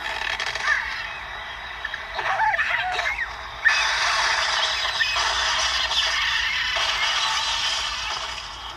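In the Angry Birds mobile game, cartoon birds squawk and structures crash and break apart, with a sharp impact near the middle followed by clattering debris over steady game music.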